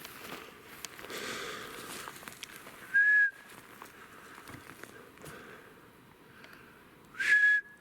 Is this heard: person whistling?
yes